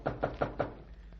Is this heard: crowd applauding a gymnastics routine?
no